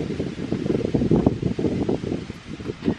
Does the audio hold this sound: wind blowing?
yes